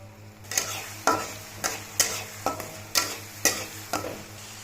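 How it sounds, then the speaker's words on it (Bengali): Ginger garlic paste and onion lightly frying in oil, stirred in regular strokes: about eight evenly spaced scraping swishes over a low continuous sizzle, close and clear, with no speech. "তেলের মধ্যে আদা রসুন পেস্ট পেঁয়াজ দিয়ে দিয়েছি এখন হালকা ফ্রাই করে নেব"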